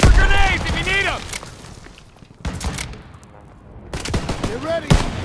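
Gunfire in the World War II shooter Call of Duty WW2: bursts of rifle and machine-gun fire with booming impacts, interleaved with shouted commands, dropping briefly to a quieter lull before shots and voices resume.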